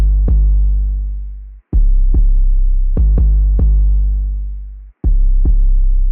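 Deep booming 808 bass hits with long sustained tails, playing a sparse syncopated beat in FL Studio, loud and alone.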